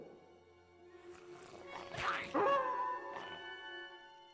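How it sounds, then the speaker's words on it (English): A were-rat howling in The Book of Unwritten Tales 2 video game, a single drawn-out, wavering, whimpering canine howl that rises and then fades, fairly quiet and heard alone. "Why is a were-rat howling?"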